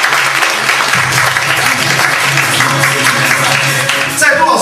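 A lecture audience bursts into loud, continuous applause that fills the room and fades slightly at the close.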